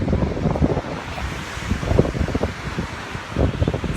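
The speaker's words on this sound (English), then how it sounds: "there's the ocean right in front of us" Ocean waves on a crowded beach wash in with a steady broadband roar, mixed with gusty wind buffeting the microphone throughout, with no voices.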